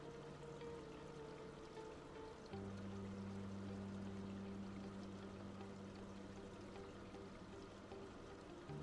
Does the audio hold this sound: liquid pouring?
yes